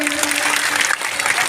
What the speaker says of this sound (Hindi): एक बार जोरदार ताली हो जाए दादा के लिए